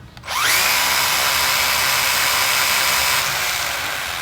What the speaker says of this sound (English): Robert, show everybody what the wheels on your car can do